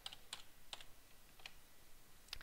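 Quick, uneven bursts of keystrokes on a computer keyboard, about five clicks spread across a couple of seconds, close and fairly quiet in a still room.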